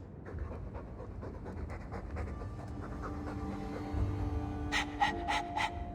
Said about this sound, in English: All that noisy dog breath, day in, day out.